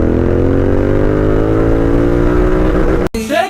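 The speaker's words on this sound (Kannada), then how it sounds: "ಥರ್ಡ್ ಗೇರಲ್ಲಿ ಒಂದು ಫುಲ್ ಕೊಡುತ್ತೆ ನೋಡಿ ಗಾಡಿ ಮಾತ್ರ." A Royal Enfield Continental GT 650 twin-cylinder cafe racer pulls hard in third gear, its loud close engine note rising steadily in pitch before cutting off abruptly near the end.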